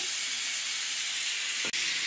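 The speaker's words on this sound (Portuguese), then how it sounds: "tá um barulho porque eu tô cozinhando outras coisas ali na panela de pressão." A pressure cooker on the stove hisses a continuous, loud, broadband rush of escaping steam while cooking, with one brief dropout near the end.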